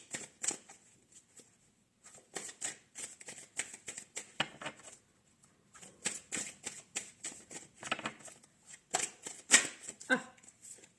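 Tarot cards are shuffled close by in quick irregular bursts of crisp riffling and slapping, with short pauses between bursts and no talking.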